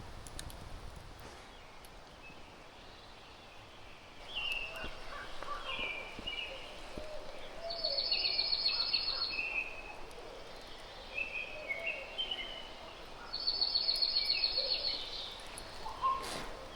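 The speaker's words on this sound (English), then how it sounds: "The birds sound amazing this morning." Morning birdsong at a forest bushcraft camp, scattered chirps and calls from several birds with two bursts of high, sustained trilling, fairly distant over quiet woodland ambience.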